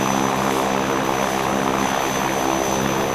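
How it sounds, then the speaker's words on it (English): Engines of the Skycar flying machine drone loudly and steadily while creating downward thrust, a constant propeller-like hum with no break. "The engines create a downward thrust, pushing Mahler's flying machine slightly upwards."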